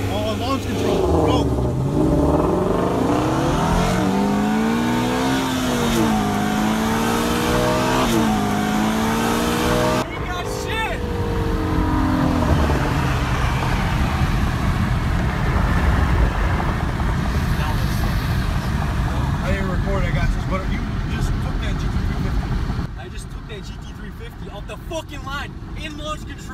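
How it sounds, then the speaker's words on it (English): A 2017 Ford Mustang GT350 launches hard off the line with launch control, its engine revving and climbing through the gears, loud and close from inside the car, with excited voices talking over it. "GT350 off the fucking line in launch control."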